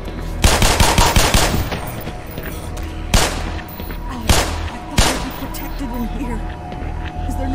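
Gunfire in the first-person shooter game Black Mesa: a long rapid burst of automatic shots followed by several loud single blasts separated by pauses, with in-game noise between them.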